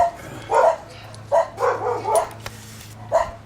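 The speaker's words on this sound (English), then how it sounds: "fucking dogs" Dogs bark in a garage during a rear brake job on a Bronco, several short barks in irregular bursts at moderate distance, with a low steady hum underneath and no speech.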